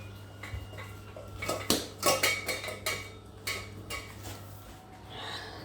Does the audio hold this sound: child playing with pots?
yes